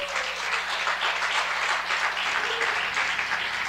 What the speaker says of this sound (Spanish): denle un aplauso a mi mamá.